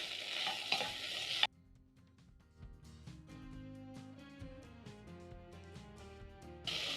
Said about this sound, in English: using my spatula, I'm going to break down the seasoning cubes and toss all the spices together with the meat for around 30 seconds